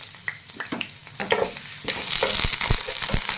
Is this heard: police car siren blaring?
no